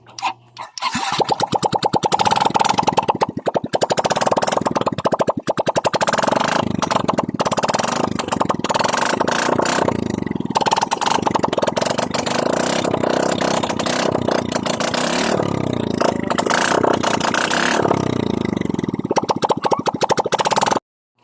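A Yamaha Mio i 125 scooter, one that blows white exhaust smoke and burns oil, starts up and runs loudly at close range with a rough, rattling idle and brief revs, the engine continuing for about twenty seconds before cutting off.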